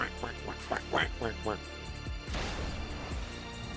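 A voice imitates a duck quacking, giving a rapid series of nasal quacks that gives way to a burst of crowd noise and crashing sound from an NBA 2K24 basketball game.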